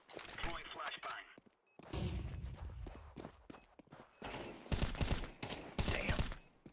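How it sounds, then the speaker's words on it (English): Sharp gunfire bursts and a loud bang from a Counter-Strike match, with a flashbang grenade being thrown, come in clusters over a dense game soundscape of booms and clatter. "Throwing flashbang."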